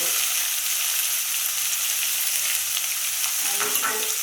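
Finely chopped onion, ginger and garlic frying in a pan until browned. A dense, steady sizzle of hot oil holds loud and close throughout, with a light stir near the end.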